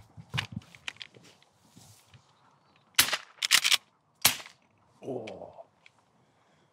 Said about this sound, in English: I'm shooting a Eley extra long, so it's 18 gram of shot.